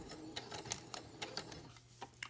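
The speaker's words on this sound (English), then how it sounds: "Then I back stitch about 4 times." A sewing machine back stitches over the edge of a fabric face mask, giving a short run of quick, soft mechanical ticks close by, with no talk.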